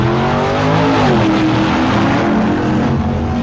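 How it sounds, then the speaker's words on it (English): A Dodge drag racing car in a 1965 AHRA Stock Eliminator final, its engine roaring loud and continuous at full throttle with a steady, dense rumble throughout, and no talk. "The final Mr. Stock Eliminator run is an all-Mopar show as Al Ekstrand draws Bud Fauble for the race"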